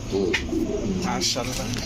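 A male Shirazi (shirting) pigeon cooing nearby, low, throaty rolling coos repeating steadily for a couple of seconds.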